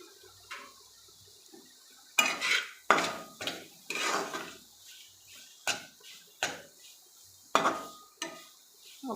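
A spoon clinks and scrapes against a pot as paneer masala with fried onions is stirred, giving a series of sharp metallic knocks at an uneven rhythm, close and fairly quiet, with no talking.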